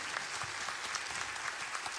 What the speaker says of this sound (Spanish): Podemos darle un aplauso a todas las personas que están organizando